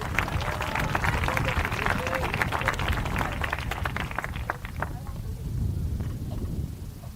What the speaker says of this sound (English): one more round of applause for Zoe Thompson